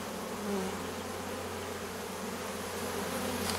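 A large honeybee swarm hums in a steady, dense drone that stays unbroken and fairly even throughout, with no voices over it.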